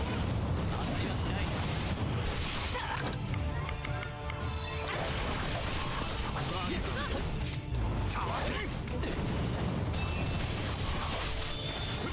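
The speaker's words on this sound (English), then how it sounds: "I like how that sword that he's using leaves explosions in its wake." Explosions trailing a sword's strikes in Fate/Samurai Remnant: a chaotic run of bursting impacts, crashes and whooshing blasts arriving in quick succession, loud and busy with game effects across the whole stretch.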